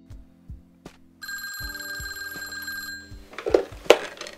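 A telephone rings while a call is being placed, a steady electronic ringing tone with brief pauses, mixed with a few thuds and clatter nearby and no talk.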